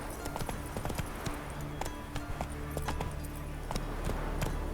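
Hooves of Roach, the horse in The Witcher 3, pound in a quick galloping clip-clop, sharp repeated hoofbeats over a continuous game background of ambience and music.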